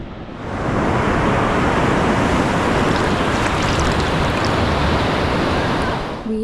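Ocean surf rolls onto a beach on the Oregon coast near Florence, a loud, continuous broadband wash of breaking waves that swells in and fades slightly at the end, with no voices.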